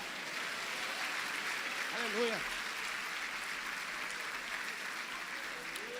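Applause fills a church service as a dense, even wash of clapping that holds steady throughout, with a brief voice rising over it midway.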